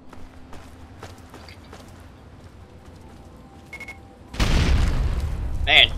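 Grenade explosion in Fallout 3, a sudden loud booming blast near the end after quieter footsteps and movement, with rumbling debris trailing off.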